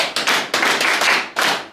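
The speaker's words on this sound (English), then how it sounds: "Clap for her." A small group claps at a school chemistry practical session in Sokoto, several short, uneven bursts of close hand claps separated by brief gaps.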